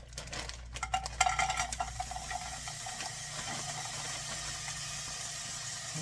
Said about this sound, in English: So I'm going to go ahead and saute these.